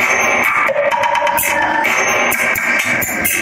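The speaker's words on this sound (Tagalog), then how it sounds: "Yung tunog ng equalizer sa rock." Full-band music plays loud and continuous through a rock equalizer preset, with steady drums, bright upper layers and a dense mid-range throughout.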